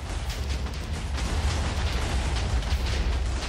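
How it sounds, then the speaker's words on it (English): Explosion in a 6v6 Minecraft match, heard as a dense, steady roaring rumble heavy in the low end that fills the whole stretch without clear separate blasts, moderately loud, with no voices. "That's a big explosion going down at mid over there."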